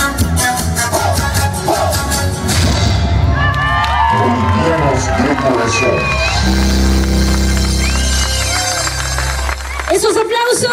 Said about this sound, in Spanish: Esos aplausos, claro que sí